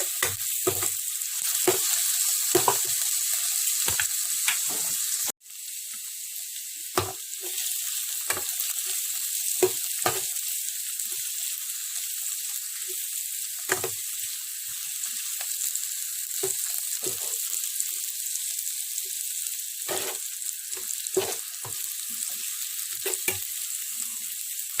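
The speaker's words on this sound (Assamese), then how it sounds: "এতিয়া মই নহৰুখিনিও ইয়াতে দি দিম" Garlic sizzles steadily in hot cooking oil for an egg, eggplant and tomato dish, a continuous bright frying hiss broken by frequent short stirring scrapes and clatters, close and loud with no talking.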